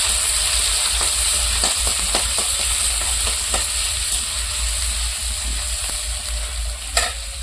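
Chopped chili and onion go into hot oil in a home kitchen pan for a Maggi noodle dish, giving a steady, loud, broad sizzle throughout with occasional stirring scrapes and one sharper clink near the end, and no talking.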